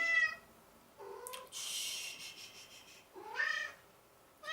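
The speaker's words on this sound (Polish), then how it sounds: "Wybaczcie miałczącego kota." A domestic cat meows several times, drawn-out and fairly close, with a pause between calls and no talking over them.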